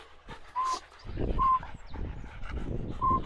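Weimaraner or Jagdterrier dog giving a few close, sharp barks and whimpers, outdoors.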